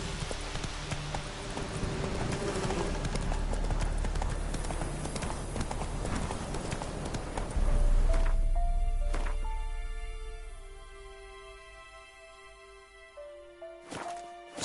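Roach, a horse in the video game The Witcher 3, gallops with rapid rhythmic hoof clip-clops over heavy background noise, slowing to a stop halfway through, then a few faint scattered steps and sharp knocks follow in quieter surroundings.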